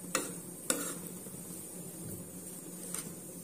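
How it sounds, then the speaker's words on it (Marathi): Vegetable sandwich stuffing being stirred and mixed in a pan or bowl, with a few sharp utensil clicks against the vessel over a soft, steady scraping and a faint sizzling background. "आता आपण आपलं मिक्स करून घेऊयात"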